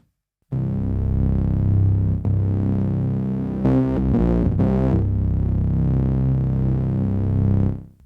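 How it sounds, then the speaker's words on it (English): A buzzing, harmonically rich distortion tone from a Novation Circuit Tracks synthesizer holds steady for several seconds, gritty and distorted, with a brief flurry of brighter crackly bursts midway. "So really cool distortion types over here"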